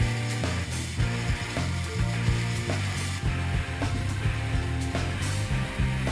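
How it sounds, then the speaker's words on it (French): A mechanical screening machine sorting shredded PVC for recycling clatters and ratchets in a steady repeating rhythm, with rapid mechanical clicks and thumps from its moving parts. "Un nouveau cycle de criblage permet un dernier tri mécanique du PVC."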